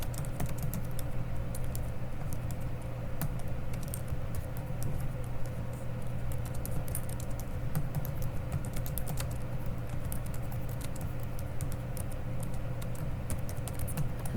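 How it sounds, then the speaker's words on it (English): Continuous typing on a computer keyboard at a steady pace, with soft rapid key clicks close to the microphone and a faint background hum, no speech. "There's going to be a lot of typing in this project."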